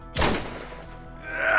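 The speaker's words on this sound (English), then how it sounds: "Yet another gunshot." One sharp, loud gunshot in The Fruit of Grisaia visual novel game, a sudden close blast that decays quickly, followed by a rising tonal game sound.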